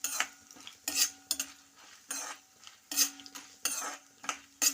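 Mustard seeds, cumin, broken dried red chillies and lentils sputtering in hot oil for a cluster bean curry, with repeated loud metal spoon scrapes and clinks against the pan in bursts over a soft sizzle.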